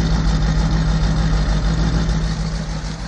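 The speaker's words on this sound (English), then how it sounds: "Listen to the exhaust." The Oldsmobile 455 engine in a 1976 GMC motorhome idles with a loud, steady exhaust rumble, a close, even low throb with no talking.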